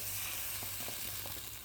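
Margarine sizzling in a saucepan heated over a strong flame, a steady loud frying hiss with a few faint crackles, no talking.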